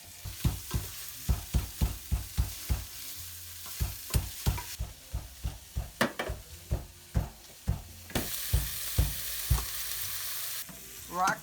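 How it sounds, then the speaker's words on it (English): Broccoli sautéing in a little butter in a pan, with a steady frying sizzle beneath a long run of regular, close stirring knocks and scrapes from a utensil against the pan. "Broccoli, I'm sauteing it. I did put a little bit of butter and I'm going to season it."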